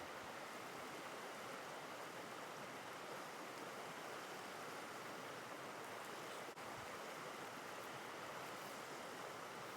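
Creek water flowing in a steady, even wash of sound, continuous and low in level throughout, with no voices.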